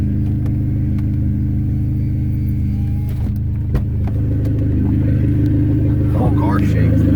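A Dodge SRT-4 with a new exhaust idles in a loud, steady, deep rumble close by, with people talking faintly over the engine.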